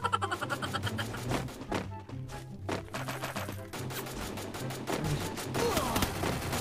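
Rapid gunfire in a shooter video game rattles in quick bursts, close and fairly loud, over a steady low game soundtrack with brief pauses between volleys.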